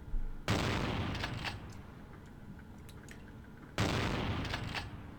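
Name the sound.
enemy gunfire in video game Vampire the Masquerade: Bloodlines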